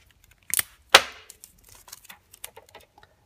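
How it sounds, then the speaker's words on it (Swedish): Adhesive tape rips off the roll in two sharp, close bursts, the second louder and longer, followed by small crinkles and taps as a strip is handled while taping down a zipper for sewing. "Tar en tejp till."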